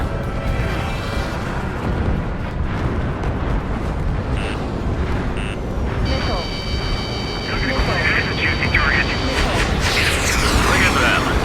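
Decoy planes exploding on an air base in Ace Combat 7: a dense, continuous roar of blasts and rumbling destruction, loud and unbroken, with radio chatter and electronic beeps layered over it.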